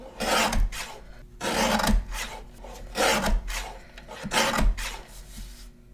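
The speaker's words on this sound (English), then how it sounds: "I'm going to trim down about 1/8 of an inch all the way around my panel" Cardstock panel being trimmed, five rhythmic rasping strokes roughly a second apart, each a loud close scrape of a trimmer blade with short pauses between.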